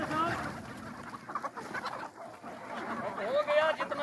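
About a thousand chickens on a poultry farm cluck busily up close, a dense flock chorus with a voice murmuring faintly underneath.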